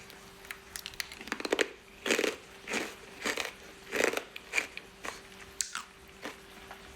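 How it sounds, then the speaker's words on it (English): Crunchy toffee s'more being bitten and chewed up close, a rapid run of brittle cracks followed by several distinct crunching chews spaced about half a second apart, with no talking. "It's definitely crunchy and toffeed, but it's got kind of a burnt aftertaste."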